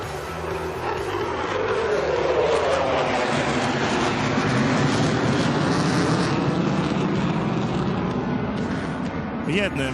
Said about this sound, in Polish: W centrum pokazu pilot przechyli samolot, rozpędzając się wprowadzi go w ostry zakręt.